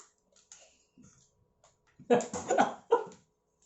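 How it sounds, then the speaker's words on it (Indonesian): A short burst of coughing, two or three harsh coughs close together, in an otherwise quiet room with faint background clicks. "Itu siapa yang batuk?"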